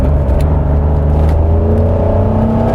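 A Honda NSX sports car engine accelerating hard at highway speed, a loud steady rumbling drone with rising whine, heard from inside the cabin with no talk.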